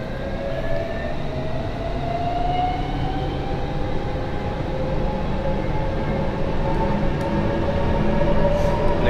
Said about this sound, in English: and this train is ready to depart.